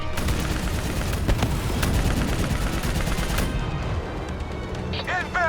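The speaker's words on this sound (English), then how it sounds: "shooting." Gunfire in the video game Call of Duty Black Ops III, dense rapid automatic bursts at close range with crashing impacts, thinning out toward the end as a voice speaks over it.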